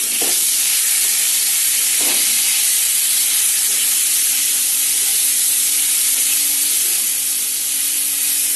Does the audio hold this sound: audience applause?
no